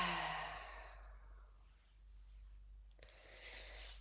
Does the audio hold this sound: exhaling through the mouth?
yes